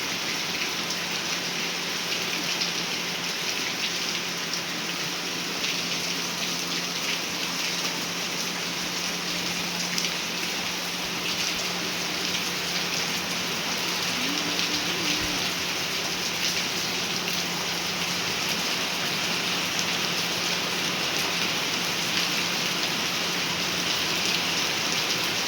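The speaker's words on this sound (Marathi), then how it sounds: "एकदम जोराचा पाऊस चालू झालाय बघा आता" Heavy rain pouring down in Nashik, a dense, constant roar of water beating on surfaces that holds at the same loud level from start to finish, with no voices.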